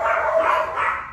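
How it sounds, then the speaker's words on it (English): Dogs bark in a steady, fairly loud run of overlapping yaps and woofs indoors, filling the whole second with no talking over them. "My dogs."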